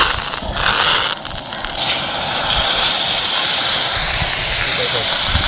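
Curry leaves sizzling in hot oil over a low flame, a loud, steady crackling hiss that fills the whole stretch close up, with a brief dip early on.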